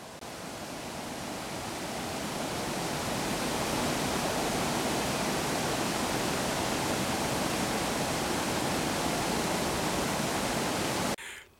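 Water pours over a weir on the River Avon near Downton in Wiltshire, a continuous, dense rushing roar that holds steady and close before cutting off abruptly at the end.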